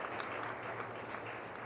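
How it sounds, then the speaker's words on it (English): Applause for the Defence Minister at a leadership forum session, a dense steady wash of clapping heard faint and distant throughout the short moment. "Warm round of applause for Mr. Rajnath Singh, Defence Minister."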